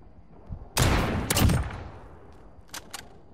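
Gunfire in the video game Call of Duty Modern Warfare: a faint pop, then a loud burst of shots lasting under a second, followed by two sharper, quieter single reports, close and punchy.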